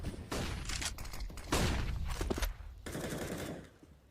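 Rifle fire from a Counter-Strike professional match, with rapid bursts of automatic shots in close succession and brief pauses between volleys.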